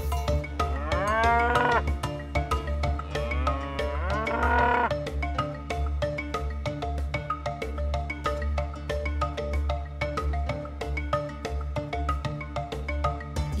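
Dairy cow in a Fouta Djallon farmyard in Guinea, seen during hand milking, gives two loud, close moos near the start, then stays quiet over a steady low background hum.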